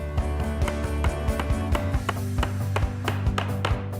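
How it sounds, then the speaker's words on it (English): Hammer blows driving a nail into a wooden house number planter, a quick run of sharp, loud, close taps in steady rhythm with no talk. "here we can just knock it straight in"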